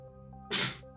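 A single short sneeze, a quick hissy burst over faint background hum.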